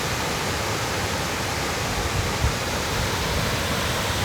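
Waterfall at Crystal Creek in Shasta-Trinity National Forest, a dense, steady rushing roar of falling water, loud and close, with no voices.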